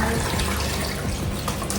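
Water runs or pours steadily into a container while making pineapple cherry juice, a continuous close splashing stream with no break across the short stretch.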